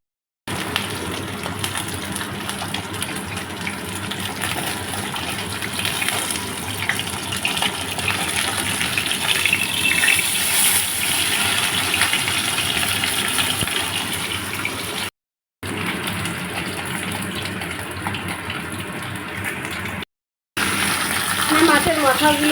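Fish pieces sizzle and spit in hot oil, frying before going into a fish curry; a steady, loud hiss with crackle runs almost unbroken, with two brief gaps near the end.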